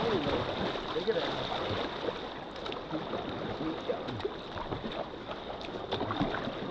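Canoe paddle dipping and pulling through moving river water on the Clarence River, a steady soft wash and trickle of flowing water throughout, close by, with no talk in the clip.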